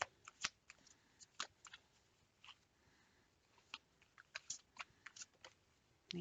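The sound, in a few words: tarot cards being shuffled and drawn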